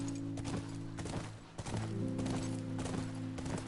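Horse hooves clip-clop in a steady trotting rhythm as a horse is ridden in The Last of Us, the beats fairly soft and mixed with droning game music.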